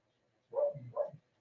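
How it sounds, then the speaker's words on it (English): A pet dog gives a short double bark, close and fairly loud, two quick yaps in a quiet room with nothing else around them. "she just sits for hours and barks, does Snoopy Doops."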